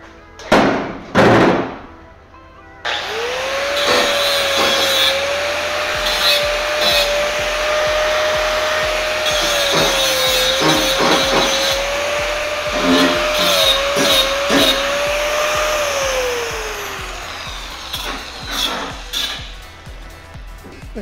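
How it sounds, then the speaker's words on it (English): A power grinder whines steadily as it grinds metal cuttings smooth, starting after a few loud knocks and holding a continuous high drone with slight pitch sways for about fifteen seconds before winding down. "So just going to grind off some of the sparks."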